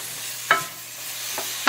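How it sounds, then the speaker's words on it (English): Carrots, celery and onions frying in a pan, with a few sharp stirring scrapes at intervals over a soft, steady sizzle. "we're frying the carrots with the celery and the onions."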